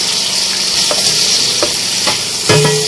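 Thick-cut green chillies, three or four of them, sizzle loudly in a pan of frying chicken masala, with a steady hiss throughout and a few soft clinks of utensils.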